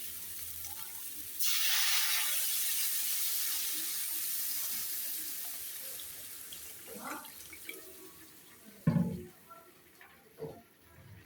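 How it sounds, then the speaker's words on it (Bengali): Water is poured into a pan of fish curry cooking with potatoes, vegetable stems and tomatoes, giving a steady rushing splash that fades into gentle simmering with a few clinks and knocks. "এখন দিয়ে দিব পরিমাণ মতো জল।"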